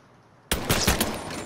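AK rifle gunfire in the video game Mafia III: a sudden loud burst of several rapid shots, close and harsh, following a near-silent moment.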